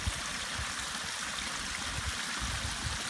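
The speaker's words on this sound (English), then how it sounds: "as the water trickles down, it really sort of drowns out the sounds from the neighborhood around" Water trickles steadily down a backyard waterfall, a continuous close splashing and rushing hiss with faint bubbling, unbroken and without voices.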